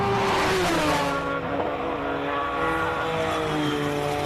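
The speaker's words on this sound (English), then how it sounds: "the car sounds like it misfires so badly." Hill climb race car engine misfiring during a qualifying run, a loud, rough roar with a pitch that sweeps down and then holds, heard close and steady with no one talking.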